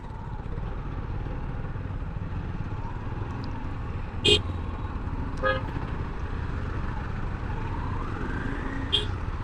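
Car horns honk in a traffic jam, three short toots at intervals, some nearer and some farther, over a steady rumble of engines and motorbikes.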